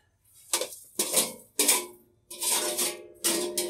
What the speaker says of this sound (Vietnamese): Mình cho qua chảo chấm dính nha.